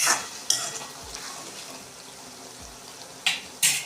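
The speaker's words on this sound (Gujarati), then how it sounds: "તો આપણે એકવાર ચમચાથી હલાવી લઈશું" A spoon stirs thick tomato gravy in oil, where the oil has separated, for a Kathiyawadi sev tameta curry. A few brief, close scraping strokes sound over a soft, steady sizzle, with no talking.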